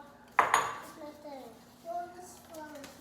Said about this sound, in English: Let me move this bowl.